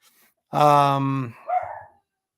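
A dog lets out one drawn-out, close bark followed by a shorter, softer yelp, with quiet before and after.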